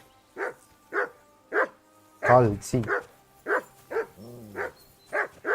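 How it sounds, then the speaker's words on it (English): Repeated dog barks from a dog in the medieval game Kingdom Come: Deliverance II, several sharp woofs in a steady rhythm, fairly close, with a voice speaking briefly in the middle. "That barking's driving me nuts."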